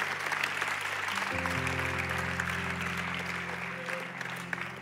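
Applause from a church congregation during a Sunday service, a moderate wash of clapping over sustained musical chords from an instrument playing underneath.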